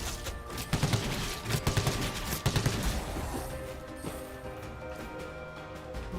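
Rapid bursts of gunfire from a weapon in a Nintendo Switch video game, several sharp shots clustered in quick volleys over a steady background, then fading into quieter game ambience.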